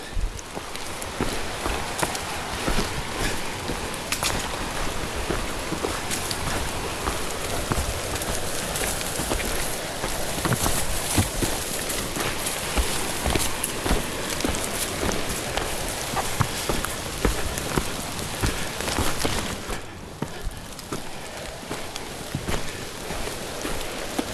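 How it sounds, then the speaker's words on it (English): Rain patters steadily on surfaces all around on the Appalachian Trail in Maine's 100 Mile Wilderness, a dense continuous crackle with occasional hiking footsteps mixed in, briefly easing near the end. "A little bit of rain"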